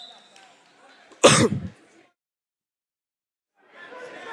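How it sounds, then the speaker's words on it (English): A single loud, harsh cough bursts out near the mic between stretches of quiet, followed by faint murmuring background voices. "Very sorry about the cough, everybody."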